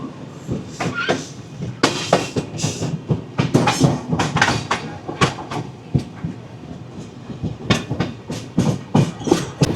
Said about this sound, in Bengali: ট্রেন ক্রস করছে জাজপুর কেওনঝড় রোড।